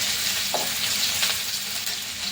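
Chopped ginger, garlic and green chillies sizzle in hot oil over a lowered gas flame for a Manchurian dish, giving a close, continuous crackling fry with a couple of faint stirring scrapes.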